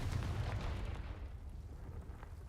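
A deep, rumbling blast from an explosion spell fills a wizard video game, heavy and booming at the start and then fading into a sustained low roar, with no voices.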